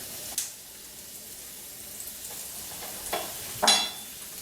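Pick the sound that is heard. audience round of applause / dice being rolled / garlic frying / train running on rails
garlic frying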